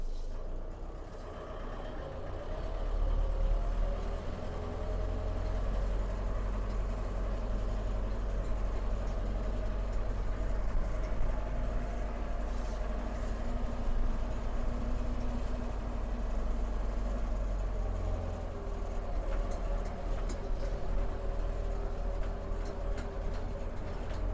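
A small vehicle's engine idles steadily, then rises as it drives off in reverse gear, a continuous low rumble close by with no talk.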